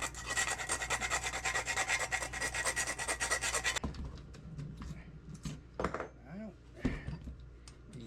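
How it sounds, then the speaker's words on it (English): Hand file rasping burrs off metal parts for a DIY bird feeder, a steady close scraping for the first few seconds, then scattered lighter scrapes and handling knocks. "we will see if we can file on there a little bit. See if we can get those burrs off of there"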